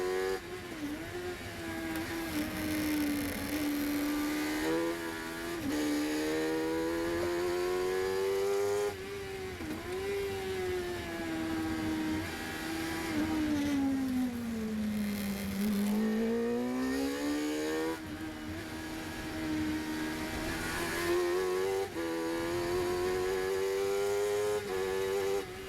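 A 750MC Sports 1000 race car on track at Anglesey, its engine note loud and close, rising and falling steadily through gear changes and throttle lifts with no talk over it.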